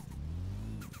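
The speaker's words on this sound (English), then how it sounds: "I do like that turbo sound." Car engine in the racing video game Forza Horizon 3, Hot Wheels expansion, droning steadily and loud throughout with a turbo note rising over it, plus brief higher whooshes near the end.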